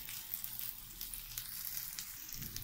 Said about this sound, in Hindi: और दूसरी साइड से भी हम इसको यूं ही फ्राई करेंगे 1 से 2 मिनट के लिए।